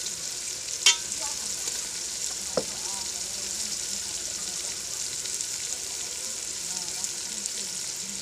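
Red chilies fry and sizzle steadily in hot oil in a pan for a potato and peas curry, with a constant close hiss and a couple of sharp pops or spoon taps.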